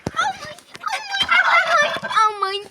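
Domestic geese honk loudly and close by at a morning feeding, a dense, overlapping run of harsh calls that carries on without a break across the whole stretch.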